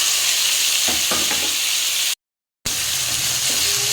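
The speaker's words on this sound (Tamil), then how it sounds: "கொஞ்சம் இந்த எண்ணெயிலே நல்லா வதங்கிட்டு நல்லா கொஞ்சம் எண்ணெயிலே ஃப்ரை பண்ணிக்கலாம்." Boiled chayote and chana dal frying in hot oil with green chilies: a loud, steady sizzle with a few scraping stirs, broken by a short gap of silence, and no talk.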